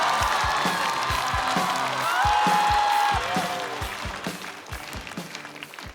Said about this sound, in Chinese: 掌声有请王悦。